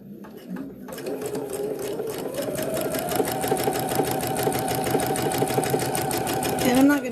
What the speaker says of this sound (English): I can see when I'm sewing